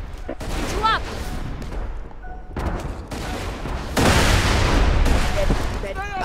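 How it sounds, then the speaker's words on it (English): Mortar blasts in Borderlands 2 boom and crackle amid combat, a loud burst that swells into sustained roaring noise near the end, with voices shouting over the action. "Avoid those mortars, Slab!"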